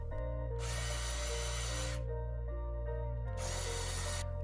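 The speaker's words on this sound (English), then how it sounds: "I had to re-drill a couple of holes" A power drill whirs steadily while two loud bursts of drilling cut in, re-drilling narrow mounting holes in a longboard deck for Z-brackets, separated by a quieter stretch of the motor spinning; no one speaks.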